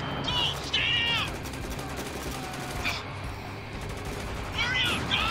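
Heavy gunfire from the video game Spec Ops: The Line, a dense continuous battle roar with sharper bursts near the start, middle and end.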